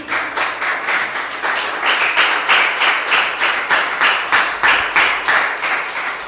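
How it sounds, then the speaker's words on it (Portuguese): A church congregation applauds steadily with rhythmic, synchronized clapping, loud and close, with no talking over it. "Não pode aplaudir Jesus?"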